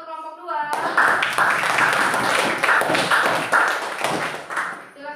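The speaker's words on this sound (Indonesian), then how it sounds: "Tepuk tangan untuk kelompok 2." A classroom group claps for the second student group, a dense burst of hands that swells and lingers for several seconds before fading.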